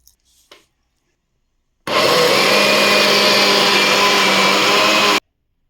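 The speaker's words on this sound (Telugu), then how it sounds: "మిక్సీ అయితే వేసేసామండి" A mixer grinder churns soaked moong dal and rice for pesarattu batter, a loud steady motor whine with coarse grinding roar running about three seconds alone after a brief faint knock, then cutting off abruptly.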